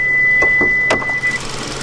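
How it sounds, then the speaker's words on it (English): A 2022 Hyundai Tucson Limited AWD engine idles with a low, steady hum while a high electronic tone sounds over it, then stops. "there's our engine running and purring nicely."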